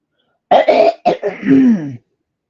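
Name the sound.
throat clearing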